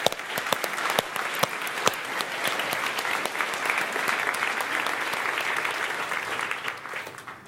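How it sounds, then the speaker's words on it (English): A keynote audience breaks into a big round of applause, dense sustained clapping from many hands with occasional sharp claps standing out, holding steady for several seconds before tapering off. "So a big round of applause for our sponsors."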